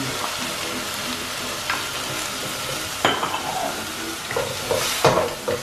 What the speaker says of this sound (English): Next, I'm gonna be adding in my tofu.